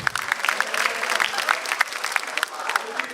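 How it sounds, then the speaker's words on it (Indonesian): A live comedy-show audience applauds a stand-up comedian, with continuous, lively clapping and some crowd noise throughout, fairly close and loud. "Tepuk tangan buat Mas Budi."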